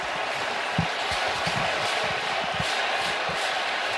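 At a Yankees–Mets baseball game, the Mets home crowd at the ballpark roars right after a double, a dense wall of cheering and shouting with scattered louder whoops running throughout.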